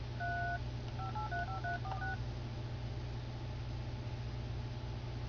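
A touchscreen phone keypad beeps out dialing tones: one longer tone, then about eight quick short beeps in a run, faint over a steady low hum and hiss, followed by a few seconds of only that background drone.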